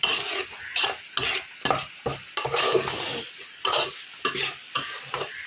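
Onions and ground fennel being stirred in a pan for a pork roast, a spoon scraping in quick repeated strokes over a soft sizzle, close and without voices.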